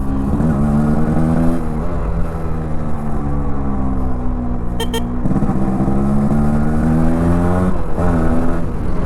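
A Yamaha RXZ 5-speed motorcycle engine revving loudly and close up, with steady throttle swells that climb and fall in pitch across several seconds and no talking.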